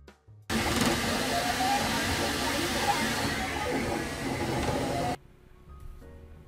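A FlashForge Creator 3D printer running while printing parts for an RC plane gives off a steady whirring, hissing mechanical drone that starts abruptly, holds for several seconds and then cuts off.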